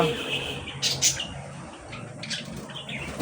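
Pet birds at a bird shop, including budgerigars, doves and king pigeons, chirp and tweet in quick bursts over a steady background, with cooing and some wing flapping, while people talk nearby.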